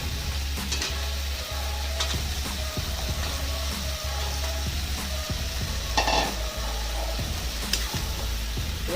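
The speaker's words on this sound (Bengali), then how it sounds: "এই সজনে ডাঁটাকে আমি কিছুক্ষণ ভিজিয়ে রেখেছিলাম, এবার এই ডাঁটাগুলোকে দিয়ে দেবো।" Soaked drumstick pods stirred into sizzling lentils in a hot pan, a loud continuous frying hiss with repeated scraping spoon strokes and light clinks, close and steady with no voices.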